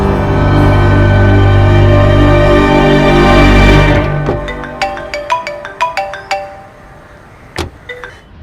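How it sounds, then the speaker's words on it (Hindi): A phone ringtone plays while someone places a call: a sustained loud melodic tone that cuts off, followed by a run of quick bright chiming notes that fade toward the end. "देव को कॉल करती हूँ।"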